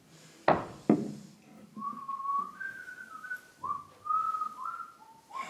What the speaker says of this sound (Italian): Perché se parli non puoi fischiare.